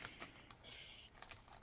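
Quiet, rapid keystrokes tapped on a Panasonic CF-20 rugged laptop keyboard, a steady run of light clicks with a short burst of faster typing partway through, no voices.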